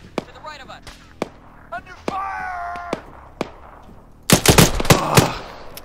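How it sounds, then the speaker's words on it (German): Gunfire in the tactical shooter game Arma 3, sharp single shots spread across the clip, then a dense rapid volley near the end, loud and close, with voices talking between shots. "Leffi, du hast gerade nur vor dir in den Boden geschossen."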